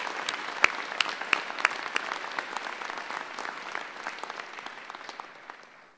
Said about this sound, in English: A round of applause for the graduates of 2015.